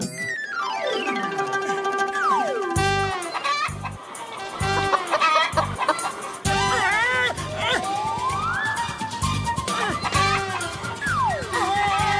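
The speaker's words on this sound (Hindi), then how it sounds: "वो देखो सामने से मुर्गी आ रही है" A chicken clucks in a Hindi cartoon, with repeated clucks and squawks over cartoon music, sliding whistle-like effects and rhythmic thumps throughout.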